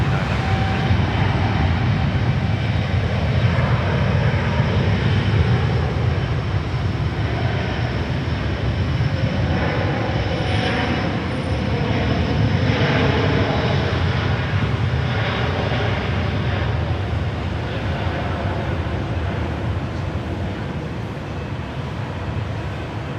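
A Cebu Pacific airliner rolls down the runway at Sydney Airport, its engines giving a loud, steady roar that fills the whole stretch without a break and fades only slightly toward the end.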